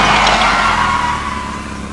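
A car engine revs loudly and close while the clutch is released, a strained roar that slowly fades and drops in pitch over two seconds, heard alone without speech.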